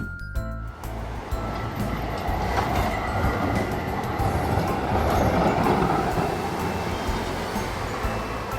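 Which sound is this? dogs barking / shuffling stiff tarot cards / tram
tram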